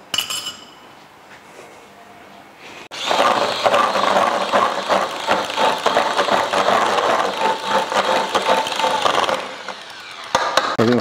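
Dissolved coffee and water are stirred together in a bowl while making tiramisu, producing a loud, continuous scraping, rattling whir for several seconds after a quieter start.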